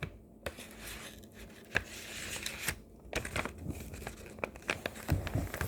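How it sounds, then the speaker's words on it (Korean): A paper doll pattern is eased into an envelope, with close crinkling and rustling of paper, soft handling taps and a few sharper crackles over several seconds. "그 다음에 봉투에 조심히 넣어줍니다."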